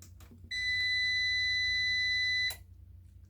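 A Prolink PRO1501SFCU line-interactive UPS gives one steady electronic beep of about two seconds right after being switched on, loud and clear over a quiet room hum.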